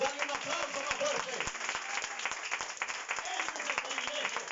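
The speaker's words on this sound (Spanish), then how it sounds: "Dale un aplauso al Señor. Dale un aplauso más fuerte." A church congregation claps during a sermon, a brisk, continuous patter of many hands with sharp individual claps standing out, fairly faint and with a voice briefly audible.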